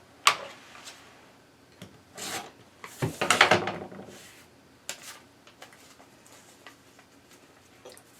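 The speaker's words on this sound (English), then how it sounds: "So now we're going to trim this to a 1/4 inch seam," Quilt block fabric trimmed to a quarter-inch seam, with a few scattered rasping cuts and scrapes from a cutting tool against the fabric and mat, louder around the middle, then only faint ticks.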